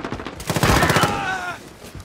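Call of Duty gunfire crackles in a rapid, close burst of shots, with a player talking around it.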